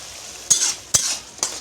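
Spice paste with sour yogurt stirred and fried in a pan for a Bengali yogurt pabda fish dish, three sharp spoon scrapes over a steady soft sizzle, close and clear, no voices.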